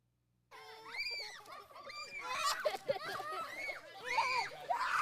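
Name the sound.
child screaming while chased by an emu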